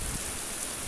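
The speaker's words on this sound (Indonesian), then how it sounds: "Alhamdulillah air hujan sudah mulai berkurang, turun dari langit." Rain falling steadily, a soft even hiss of drops on surfaces as a heavy downpour eases off, with no voices.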